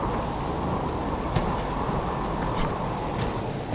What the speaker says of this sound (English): Ooh, the storm's getting bad.